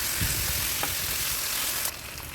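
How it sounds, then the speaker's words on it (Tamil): Onion and tomato sauté in a pan for spinach rice, giving a steady loud sizzle with a couple of brief stirring scrapes before the frying noise drops a little near the end. "தக்காளி சேர்த்து நல்லா வதக்கிக்கிங்க."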